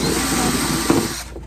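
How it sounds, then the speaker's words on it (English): A power drill bores holes during yard work, a loud, steady whirring buzz that cuts off near the end, with no talk. "so then you have to drill a hole in the top"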